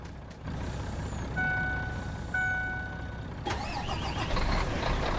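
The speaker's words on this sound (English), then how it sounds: "All right, let's go ahead and move our other truck and trailer" Truck and trailer in Farming Simulator 19 rumble steadily, then a pair of sustained reversing beeps sound before a hiss and louder engine bustle close by, with no talk.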